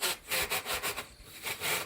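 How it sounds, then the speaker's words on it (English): A drill bit is run through a tack-welded seam on a barbecue grill or smoker part, giving close, rhythmic rasping strokes of metal scraping on metal in quick repeated bursts. "then I like to run the drill bit through it"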